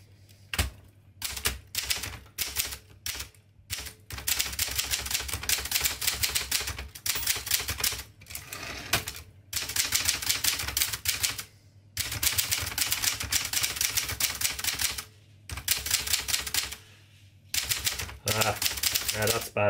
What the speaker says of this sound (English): You can watch the action of the type bars a bit better while I continue to type.